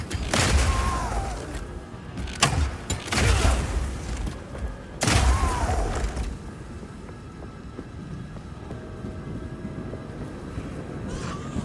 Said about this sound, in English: you can explode any grenades that happen to be on the ground